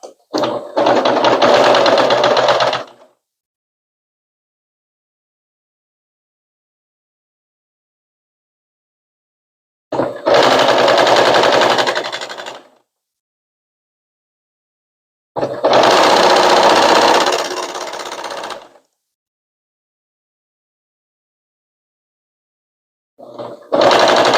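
A sewing machine stitches a seam in short, loud bursts of rapid mechanical whirring, three or four runs of a few seconds each separated by silent pauses.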